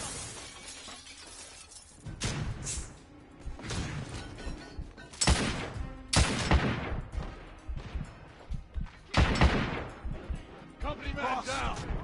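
Shotgun blasts in the Victorian-era shooter The Order: 1886 boom in several loud, irregular bursts with shattering debris, while voices shout between the shots.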